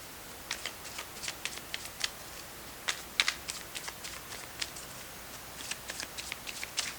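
Tarot cards are shuffled and pulled from the deck in a quiet room, a run of soft, quick card slaps and riffles arriving in irregular bursts, close and fairly faint, with no one speaking.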